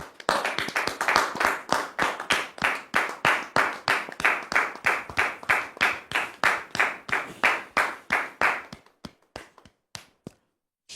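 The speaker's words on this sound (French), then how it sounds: "On le reçoit sous vos applaudissements" A studio audience welcomes a guest pastor with clapping that forms a regular, evenly spaced beat, steady for most of the stretch before slowing into a few scattered claps and silence.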